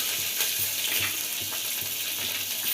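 Green and dry chillies sizzle in hot tempering oil as a dense, steady crackling hiss with faint rhythmic low thumps beneath, close and even throughout with no talking.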